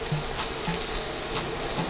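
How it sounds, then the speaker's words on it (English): Chopped onions, garlic and bell peppers sautéing in a pan give a steady, even sizzle heard close up, with no voices. "we're gonna saute all those lovely chopped, diced onions and bell peppers and get to a lovely soft saute"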